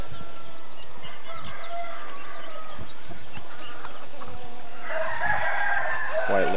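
Several white-laced red roosters crow from different distances, their calls overlapping, with a louder, closer crow rising near the end.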